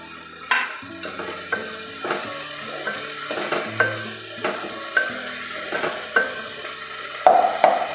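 Shawarma filling with sauce stirred and sautéed in a pan: steady soft sizzle with regular scraping stir strokes roughly every half second, close and clear, no voices.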